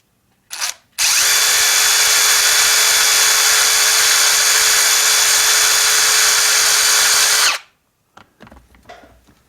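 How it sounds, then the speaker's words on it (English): A power drill whines steadily at close range for about seven seconds, drilling out buttons on a white cowhide leather case, bracketed by a brief burst before and clattering handling noises after. "I'm going to actually drill out these buttons."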